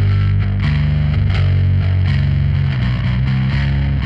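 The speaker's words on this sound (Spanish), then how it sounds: "Son armónicos que se crean por la distorsión" A solo distorted bass line plays continuously and loud, its shifting low notes thick with gritty, buzzing upper harmonics created by the distortion, with no voices over it.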